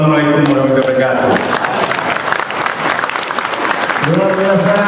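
Audience applause at a patriotic gathering, dense clapping filling the clip with voices and speech over it at the start and end.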